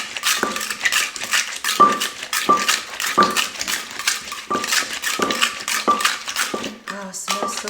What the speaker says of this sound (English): And then we're gonna mix it.